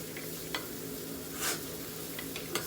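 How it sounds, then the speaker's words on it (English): A spoon stirs eggs in a pan with sausage cooking nearby: a soft continuous sizzle with faint scraping strokes and a few light clinks, fairly quiet and close. "We're gonna stir our eggs up"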